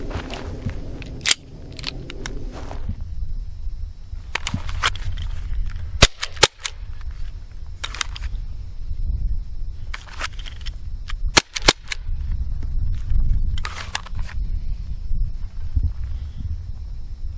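A BB gun fires a series of sharp, close snaps at targets, roughly a dozen single shots spaced irregularly over a low background rumble, with no talking.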